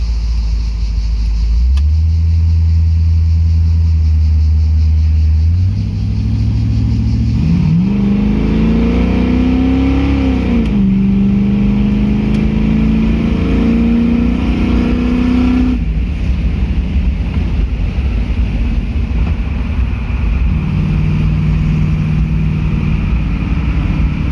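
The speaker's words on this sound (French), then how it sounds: "On a l'impression qu'elle est légère avec le couple du V8." A Pontiac Firebird with a 5.7-litre V8 on the move: a loud, deep engine drone that climbs through the revs, drops back between shifts and settles into a steady cruising rumble, with no voices over it.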